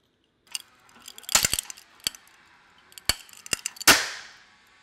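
A forged carbon fiber sample made of chopped fibers cracks under load in a bench press, giving sharp, close snaps and pops in irregular bursts that end in one loud splintering crack with a short fading tail.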